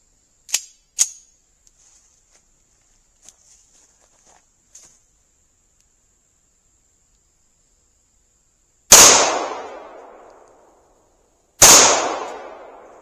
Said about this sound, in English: Go high up on the target, and then go low with the rifles. I'll do 2 shots.